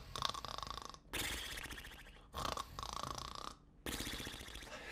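Several voices imitate snoring in rough, rasping bursts, four loud snorts separated by brief pauses, close and noisy.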